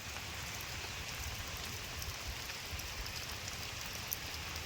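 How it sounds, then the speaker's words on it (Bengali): Steady monsoon rain falling on surfaces, a soft continuous hiss with scattered drops, heard alone at a moderate distance. "দেখেন চারিদিকে কি বৃষ্টি শুরু হয়ে গেছে"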